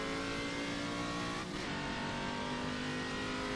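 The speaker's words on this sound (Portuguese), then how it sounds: "Esse é um dos carros que eu mais gosto de pilotar no R-Factor 2." A race car engine in the rFactor 2 racing simulator revving hard at high rpm, a dense continuous buzzing roar with a brief shift dip partway through, loud and sustained with no talk.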